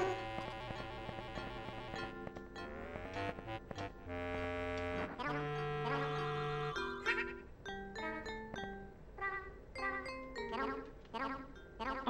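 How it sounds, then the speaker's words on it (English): Bright ringing chimes from the N64 game Yoshi's Story signal a hidden heart nearby, sounding as a string of clear tinkling tones over the game's background music. "Listen for ringing chimes when one is near."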